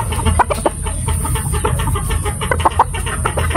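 Chickens, including pullets and hens, cluck repeatedly at close range, short choppy calls overlapping over a steady background hum with no talking.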